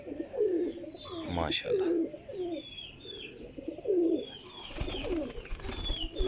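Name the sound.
pigeons cooing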